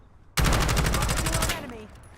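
A loud, rapid burst of automatic gunfire in Call of Duty Warzone, roughly a second of evenly spaced shots that ends abruptly and trails off into a fading echo.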